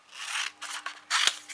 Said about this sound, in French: On découpe nos triangles